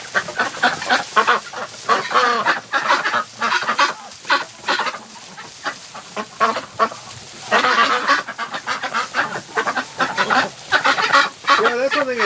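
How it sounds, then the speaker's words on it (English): Excited Muscovy ducks in a duck barn honk and call in dense, overlapping bursts, loud and close, with the noisy flock stirring continuously throughout. "You clean a duck shed or a duck barn and they go nuts"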